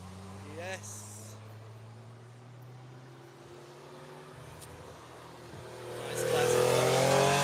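Ferrari race cars rev and roar on the Nürburgring track, a steady engine drone building to a loud, close rising burst at the end, with brief talk in between.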